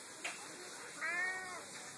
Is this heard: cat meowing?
yes